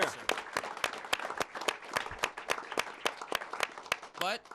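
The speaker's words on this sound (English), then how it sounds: "I just want to personally give everyone a round of applause" A small audience claps at an annual meeting of Salem Access TV, a few close, distinct hand claps in a steady, slightly uneven rhythm, ending with a brief whoop.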